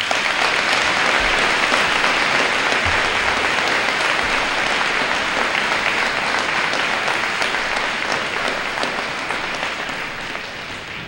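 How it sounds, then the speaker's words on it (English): A large audience at a high school Veterans Day event claps and applauds continuously, a loud dense wash of hands that tapers slightly toward the end. "just clap your hands"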